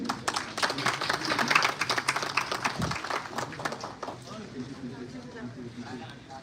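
Clapping at a university felicitation ceremony honoring a dean, fairly close and bursty for a few seconds before thinning out, while a voice talks over and after it.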